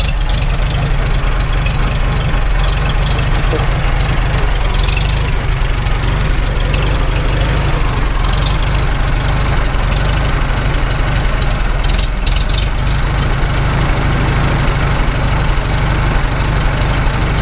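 A rebuilt Farmall H tractor engine idles steadily and loudly up close, with a constant low rumble and a rhythmic knocking beat throughout.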